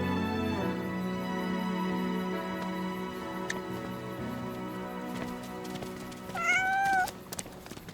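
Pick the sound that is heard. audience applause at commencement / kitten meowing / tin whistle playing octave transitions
kitten meowing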